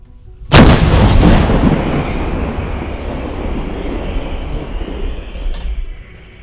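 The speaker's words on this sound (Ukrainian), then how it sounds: "Постріл!" A single loud blast from a D-30 artillery gun booms out, followed by a long rumbling echo that rolls away over several seconds.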